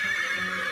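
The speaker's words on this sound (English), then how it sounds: "Neigh, neigh, says the horse, strong and neat." A horse gives a short, high whinny, a bright, wavering neigh heard up close and alone for under a second.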